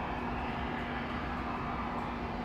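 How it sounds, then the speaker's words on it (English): An Airbus A220 airliner at Atlanta airport produces a steady, broad engine roar that holds constant throughout, with no pauses and no voices. "A220 is heading up to where the United planes are."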